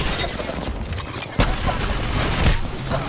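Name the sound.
gunfire hitting player in a video game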